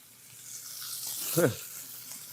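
A little butter hits a hot pan beside a steak, giving a faint, hissy sizzle that rises slowly. A brief voiced sound pops out near the middle.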